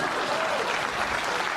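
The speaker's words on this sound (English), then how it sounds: "Give him a clap." Audience applause for a guest on a pop-culture show, a short, even burst of dense clapping from a small crowd, moderately quiet and sustained without a break.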